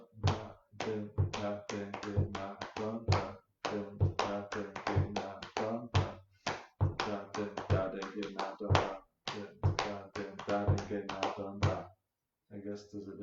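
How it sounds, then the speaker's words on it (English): Sharp hand claps and taps pound out two interlocking tempi, one kept with a foot, in a dense, steady rhythm of closely spaced hits with brief pauses, close and fairly quiet, with a voice singing along at times. "So I'm clapping two tempi, one with my foot, and the fourth I'm singing"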